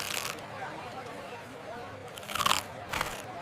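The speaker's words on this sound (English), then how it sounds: "Try this empanada, Lily. It's super crunchy." Someone bites into a crunchy empanada, producing a few sharp, close crunches amid quiet outdoor background, with brief chewing noises between them.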